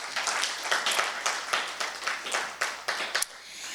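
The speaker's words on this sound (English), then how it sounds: "Give yourselves a round of applause." Moderate applause and clapping from an audience at the close of a climate change session, a scattering of distinct claps with a ragged rhythm, fairly close.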